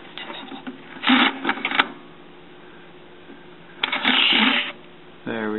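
A Speed Graphic camera's shutter mechanism gives two short bursts of clicking, whirring mechanical action a few seconds apart, close and fairly quiet, and a voice starts just after.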